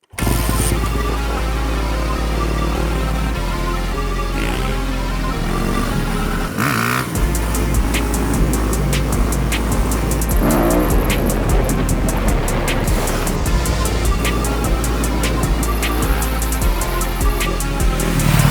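A loud Yamaha 250 YZF dirt bike engine roars steadily throughout, revving and rising in pitch as it rides, with a brief dip partway before pulling hard again.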